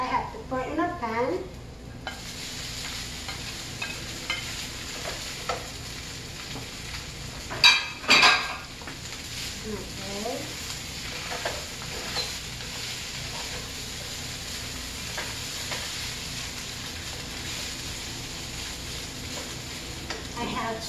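Leftover rice stir-fried in a pan, a soft continuous sizzle with scraping stirs and a couple of louder clattering spatula knocks midway, fairly quiet overall.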